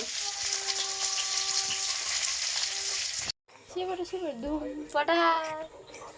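Fish frying in a kadai, a steady broadband sizzle for about three seconds, then a brief silence followed by close voices talking over fainter cooking noise.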